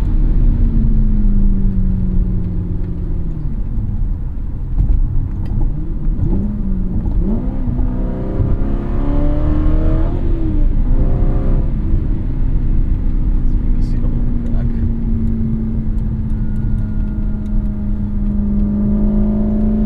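A 2014 Aston Martin V8 Vantage engine revs and climbs in pitch, rising and falling steadily throughout, with a person talking over it.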